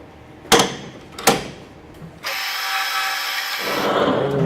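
Two sharp metallic knocks are followed by a steady, loud whirring tool noise while freshly cut threads are deburred. The whirring runs for over a second, then gives way to a broader grinding hiss, close up with no talk.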